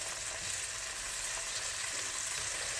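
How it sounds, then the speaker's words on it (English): Peri peri halloumi slices fry in a pan with a soft, even sizzle, a quiet hiss that holds steady from start to finish. Nothing interrupts it, and no one speaks. "hear it sizzling, and with a fork and my tongs, you can just turn them over gently"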